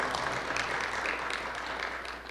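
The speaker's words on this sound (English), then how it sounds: "It's okay to clap, folks." Steady applause from an audience at a community forum held in a historic venue, moderately loud and continuous for the whole short stretch.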